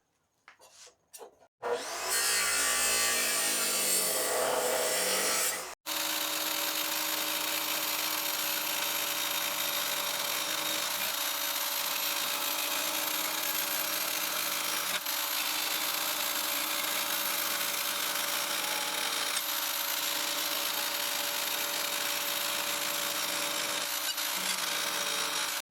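A bandsaw cuts through a lawn mower part, a steady loud buzzing drone that runs on without pause after a brief burst of harsher cutting noise at the start.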